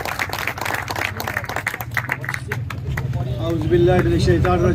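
An audience at a PML-N reception in Kotli's Gulhar Colony applauds a welcomed speaker, a dense spread of clapping under a loudspeaker voice and crowd noise that swells toward the end.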